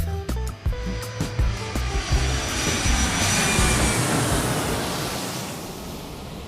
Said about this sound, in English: Flight crew, prepare for takeoff.